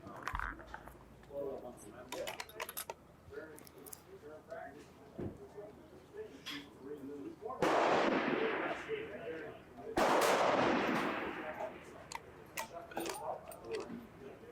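Two loud, sharp gunshots ring out a couple of seconds apart at a shooting competition finale, each followed by a brief echoing tail, with people talking quietly in the background.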